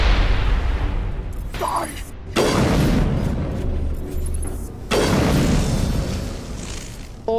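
Heavy booms from grenade explosions in the sci-fi action game Mass Effect Legendary Edition, loud broad blasts recurring over a steady rumble of combat noise, with a voice shouting briefly.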